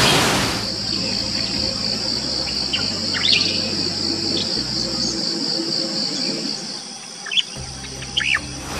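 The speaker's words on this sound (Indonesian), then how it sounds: "Terdengar ada dua ekor cicak koreng yang saling bersautan." Two cicak koreng birds call back and forth from an avocado tree and grass tips in a mountain landscape, giving short chirps over a steady wash of crickets and insects.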